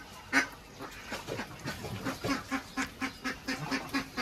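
White Pekin ducks at a farm in Pune, a run of loud nasal quacks, one sharp call followed by a rapid rhythmic series of honking quacks close by.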